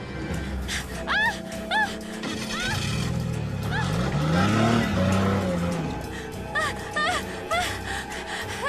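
A car engine revving up and speeding away under tense action, a rising and falling engine roar mixed with sharp squeals and panicked gasps, loud and close.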